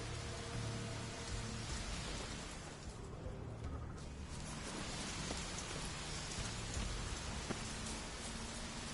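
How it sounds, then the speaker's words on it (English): Steady rain in The Witcher video game, a soft, even hiss of falling drops with faint scattered taps and a low rumble underneath, continuing throughout. "Looks like rain."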